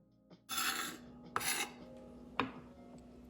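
A knife slices thinly through stacked, rolled kaffir lime leaves on a cutting board, giving two short rasping strokes and then a single faint tap, close and quiet, with no talking.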